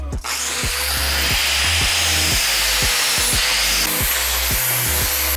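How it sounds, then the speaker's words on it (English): A power grinder works welds on metal tubing for a custom table base, its loud steady whine broken by repeated short dips and surges as the tool is pressed on and eased off. "I'm gonna just do some more grinding and cleaning up"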